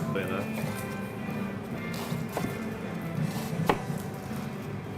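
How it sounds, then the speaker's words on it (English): A knife chops through cabbage for cabbage and sausage, with several sharp cuts against a board over a steady background hum and a voice speaking. "we're cutting cabbage today for cabbage and sausage"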